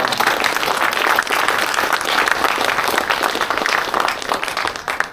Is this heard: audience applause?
yes